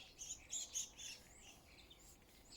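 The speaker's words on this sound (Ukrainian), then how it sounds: "Ні, горобець воно на крищі. Горобець воно по крищі пригає." Sparrows chirping in quick, bright bursts from a rooftop, fairly faint and distant over a soft background hiss, with no talking.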